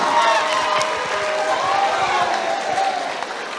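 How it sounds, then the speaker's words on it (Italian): Students and adults applauding class 3F at a school event, a dense burst of clapping mixed with crowd noise and some cheering, fairly loud and continuous, with voices audible through it. "Ragazzi, un applauso alla terza F"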